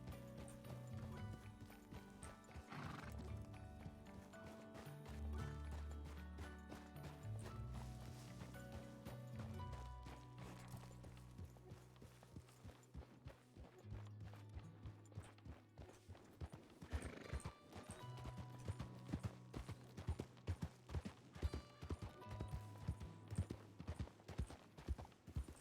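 Horse hooves clip-clop steadily through the Red Dead roleplay game world, a continuous rhythmic trot under layered game music, growing more distinct and punchy toward the end.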